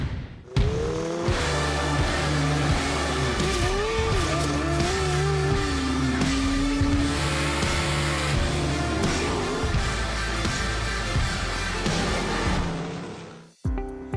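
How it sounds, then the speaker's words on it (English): A dirt-track race car running sideways on dirt at around 100 mph, its engine roaring loud and close with a continuous rising and falling whine for nearly the whole stretch, then cutting off abruptly at the end. "This car right here does ride at 100 miles an hour and we do it sideways on dirt."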